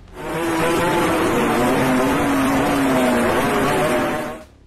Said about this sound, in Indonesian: Suara knalpot yang keluar bisa berkali-kali lipat lebih kencang dan cempreng dibanding knalpot racing biasa